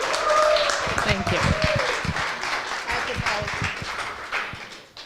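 Audience applause at a Dozen Darwin Talks event on the future of law, a steady wash of clapping that holds fairly loud throughout, with a faint voice and scattered crowd noise mixed in before it tapers slightly at the end.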